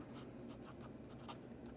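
A fountain pen nib in worn condition scratches across paper in quiet, close strokes with a soft irregular rhythm, faint and alone.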